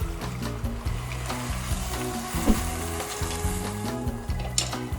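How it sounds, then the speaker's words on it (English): Vegetable broth poured over kale greens in a hot pot sets off a steady, close sizzle and crackle of frying, with light stirring and no voices. "I'm gonna add my broth in now so they don't get too stuck to the bottom"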